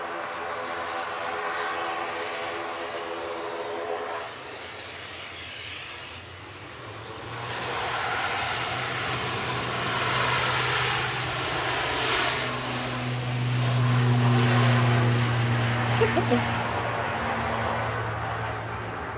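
An ATR 72 turboprop airliner, registration G-ORAI, at Manchester Airport: its engine drone builds from distant to a steady loud roar with a rising whine, swelling and fading over a long pass.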